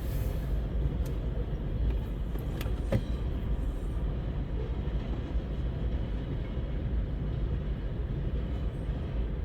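CN freight train locomotives passing at Ladysmith, Wisconsin, a dense continuous rumble and roar of engines and rolling wheels, loud and steady throughout.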